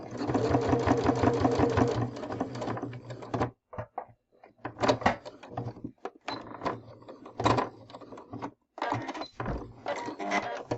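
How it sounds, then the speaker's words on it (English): Domestic sewing machine stitching binding along a quilt edge up to the corner, a steady rapid whir for about three seconds, then short stop-start bursts with handling clicks and brief pauses. "I just go ahead and I sew all the way up right to the edge of this"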